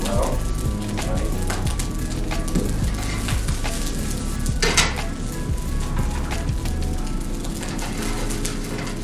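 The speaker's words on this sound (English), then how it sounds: "Your pan's not hot enough if you don't hear that sizzle." Scallions sizzling in a hot stir-fry pan, a dense continuous crackling fry with occasional louder spits and stirring, close and steady throughout.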